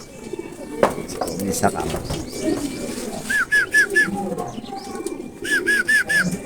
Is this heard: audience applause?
no